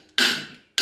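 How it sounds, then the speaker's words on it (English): Two sharp metallic hammer strikes driving a control arm ball joint into place during a suspension overhaul on an MR2, close and loud, with a ringing decay between the hits. "we're using a hammer and that seems to have worked"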